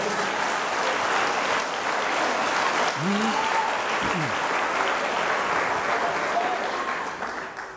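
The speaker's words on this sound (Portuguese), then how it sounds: "diga amém e dê um forte aplauso ao Senhor." Congregation at a church service giving strong sustained applause, a dense continuous roar of clapping with brief voices breaking through, easing off at the end.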